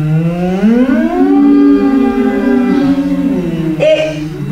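A voice imitates a siren in a singing exercise, a sustained close vocal slide that rises, holds, dips and climbs again, sounding loud and alone.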